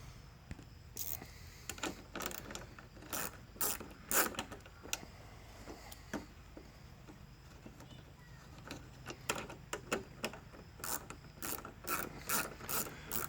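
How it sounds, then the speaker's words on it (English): Micro ratchet working headlight bolts on a 2011-2015 Chevrolet Cruze, giving rapid bursts of sharp clicking pawl ticks in irregular runs, close and crisp over a low background hum. "This little micro ratchet comes in pretty handy."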